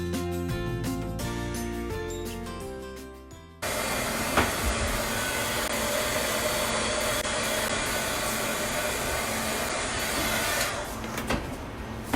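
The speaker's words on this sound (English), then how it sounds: "We use the heat gun to speed up the drying process" A heat gun drying chalk paste on a large chalkboard wall, a loud steady blowing hiss beginning partway through, after a stretch of background music, and holding to the end.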